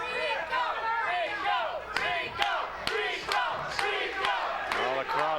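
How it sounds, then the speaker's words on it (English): A boxing arena crowd at a world title fight roars continuously, with shouts and cheers rising and falling and sharp bursts of yelling breaking through the steady din. "the crowd certainly into this"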